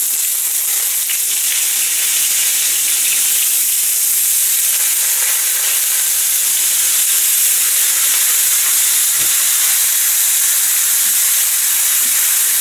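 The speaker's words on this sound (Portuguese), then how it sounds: "Vamos fritar um pouco as nossas postas de bacalhau." Cod steaks frying in olive oil in a pan, a steady, loud, continuous sizzle and hiss that runs unbroken throughout with no talking.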